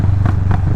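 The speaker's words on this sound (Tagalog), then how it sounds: "Putok-putok yung vulkan." A Kawasaki Vulcan S cruiser motorcycle on an early-morning road, its engine droning low and close while two quick exhaust pops crackle through, one after the other.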